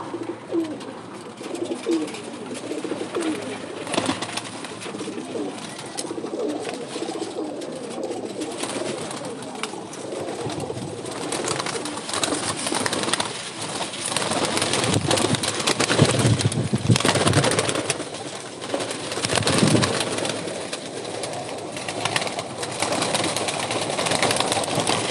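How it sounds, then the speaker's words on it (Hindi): Pigeons, flying stock from Gali No. 9, coo in soft repeated low calls close by, with occasional wing flutter and a brief rise in background noise. "ये कबूतर भी देखें"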